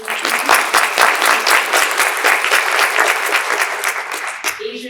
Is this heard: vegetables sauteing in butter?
no